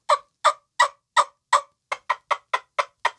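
A wing-bone turkey call used for hunting wild turkey in Mississippi gives a run of loud, close, raspy yelps, five evenly spaced then a quicker series of six, with no voices over them.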